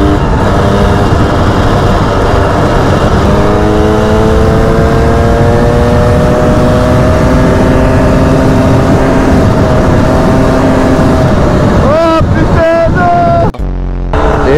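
An enduro motorcycle rides a closed road, its engine droning loudly and steadily with rising, falling pitch sweeps, then revving sharply near the end before cutting off abruptly.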